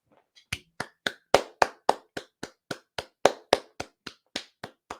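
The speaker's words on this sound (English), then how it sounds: "Just a round of applause there for Andrea for actually having a brain cell for a change" A single person claps by hand, giving about eighteen sharp, close claps in a steady rhythm that slows slightly near the end, each clap alone against silence.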